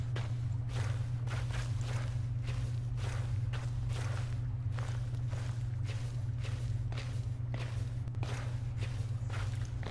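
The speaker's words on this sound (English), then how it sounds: "I heard footsteps too after I stopped. Them footsteps are creeping me out." Footsteps in the horror game Slender plod at a steady pace through a dark outdoor setting, each step a soft, close crunch over a constant low ambient drone, with no one talking.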